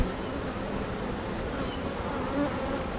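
Honey bees buzz steadily at an open hive during a brood-frame inspection, a dense continuous drone of many insects close by with no talking.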